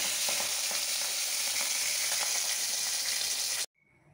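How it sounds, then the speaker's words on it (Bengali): Two pabda fish rubbed with salt and turmeric fry in oil, a dense close sizzle with scattered pops that cuts off abruptly before the end, leaving near silence. "এবার মাছ দুটো ভেজে নেব।"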